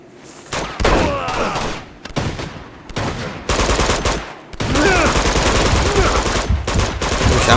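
Gunfire in the action video game Uncharted 2: loud bursts of shots and automatic fire crackle across the whole scene, with brief gaps and sustained volleys near and close.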